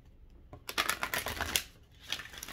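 Quick riffling and soft flapping of a deck of cards being shuffled, a few bursts close up, no talking.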